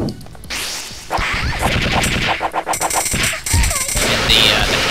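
A boss in the video game Recettear fires rockets amid dense game combat, with rapid bursts of explosive blasts, whooshes and impacts layered over continuous background music, loud and busy throughout.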